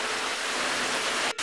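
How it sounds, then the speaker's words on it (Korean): A small mountain waterfall on a rocky trail gives a steady, broad rushing hiss of falling water, close and continuous, with a brief dip near the end and no voices. "계속 이어서 나오는 폭포."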